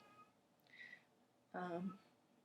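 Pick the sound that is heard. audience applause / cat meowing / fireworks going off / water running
cat meowing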